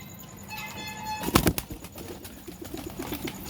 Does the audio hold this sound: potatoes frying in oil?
no